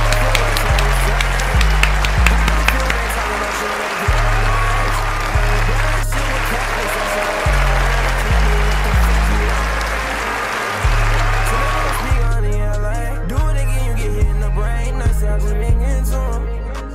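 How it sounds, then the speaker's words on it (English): An audience at a community awards show claps and applauds, a dense continuous patter of hands over a thumping looped music beat, with a voice talking over it. "Let's clap it up for my nigga Sponge."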